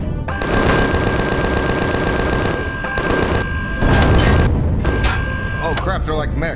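Rapid automatic gunfire from enemy mechs in the space survival game Empyrion Galactic Survival, loud sustained bursts with booming impacts filling the whole stretch, a voice briefly reacting over the shooting.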